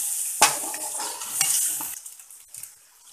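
Meat browning with spices in a pot for reshmi biryani, stirred with a spoon: a sharp clank of utensil against the pot, then steady sizzling and scraping that fades toward the end, no talk.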